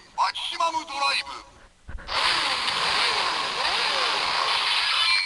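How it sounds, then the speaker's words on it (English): A Kamen Rider Engine Blade toy plays its electronic engine sound effect, a loud, sustained buzzing rev that cuts in after a brief stretch of talk and holds steady to the end. "And so those are the sound effect from the engine braid."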